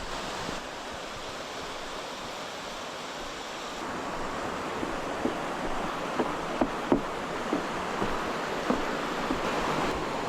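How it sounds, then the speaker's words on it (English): A winter waterfall on Mount Akaboshi roars steadily in a constant broadband rush, with faint footsteps or taps crunching near the end and no talk. "This waterfall is just beautiful."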